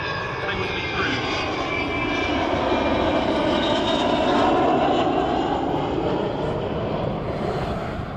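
An Avro Vulcan bomber flying a display gives a loud, sustained jet engine roar that swells and fades slightly over several seconds, with a voice speaking over it.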